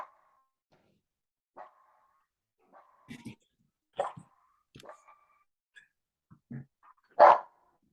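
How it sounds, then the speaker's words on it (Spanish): A small dog barks in short, separate bursts at people arriving at a house door, the barks spaced irregularly and ending in a louder, closer one. "El perrito recibe a todo lo que llega."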